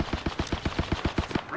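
A weapon fires in the battle royale game Apex Legends, a rapid, even burst of about ten close, punchy shots with no talking.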